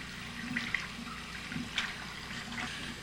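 Tap water running into a sink during hand or face washing with soap, a steady soft splashing with small bursts as the hands move under the stream, close and quiet with no talking.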